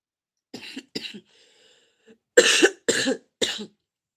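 A person coughs in short bursts: two coughs, a pause with faint throat sounds, then three harsher coughs in quick succession, close up.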